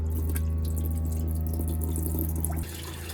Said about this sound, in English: So start running the water out of the tank.